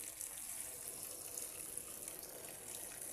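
Hot water pours into a pot of pumpkin chicken biryani being cooked Kuwaiti style, a faint, steady, continuous gushing stream with no talking.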